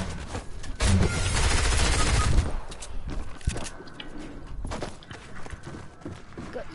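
Rapid SMG gunfire in the video game Fortnite, a loud dense burst of shots in the opening seconds, then scattered quieter shots and footstep-like clatter.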